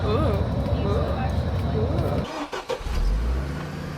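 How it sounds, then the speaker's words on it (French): Bus engine rumbling steadily on a ride from Ayutthaya to Sukhothai, a low continuous drone with a brief dip and shift near the end, while people talk over it. "En direct dans le bus de Ayutthaya à Sukhothai"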